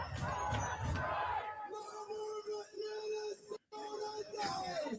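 A crowd at a protest over an immigration enforcement shooting shouts and chants, a dense mass of raised voices with bursts of yelling, moderately distant and fairly constant.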